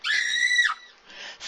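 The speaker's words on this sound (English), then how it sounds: "you do that big old scream" A person lets out a single loud, high-pitched scream that lasts about three-quarters of a second, followed by a short, softer breathy tail.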